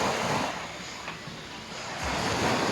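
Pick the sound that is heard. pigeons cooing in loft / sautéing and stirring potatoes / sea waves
sea waves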